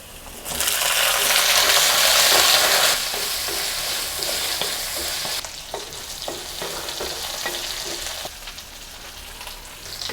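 Garlic cloves and about two dozen small onions sautéing in a pan, a loud steady sizzle that eases slightly partway through, with scattered clicks of stirring against the metal and no voices.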